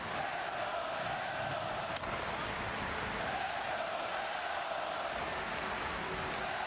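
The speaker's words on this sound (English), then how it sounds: "They're cheering for the Devils now." A dense, steady hockey arena crowd roars and cheers for the New Jersey Devils, a broad wash of many voices that holds at an even level throughout.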